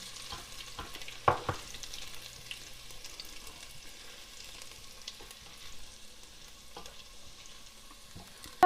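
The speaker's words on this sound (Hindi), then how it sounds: "थोड़ा सा ऑयल डाला है, और अब हमारे पास जो लहसुन हमने पीसा, हमने ब्रीक ब्रीक चॉप किया है, और वो हम इसके अंदर डाल लेंगे।" Chopped garlic fries and browns in a little oil, giving a steady soft sizzle with a few louder clinks of a stirring utensil against the pan, with no talk.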